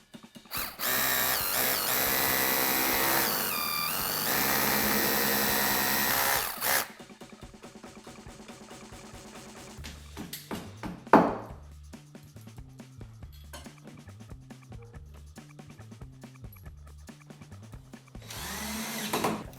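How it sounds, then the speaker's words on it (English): A power drill bores holes for shelf bracket screws: a long steady high whine first, then a pause and several shorter bursts of drilling with a rattle and clicks, close by. "So now we can drill these two and these two."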